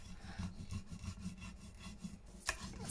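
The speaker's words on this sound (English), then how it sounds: "I'm going to get the bone folder and really give that a good burnish down so nothing's getting caught on it." A bone folder burnishes paper down in quick, soft rubbing strokes, a faint, close, rhythmic scraping over a few seconds.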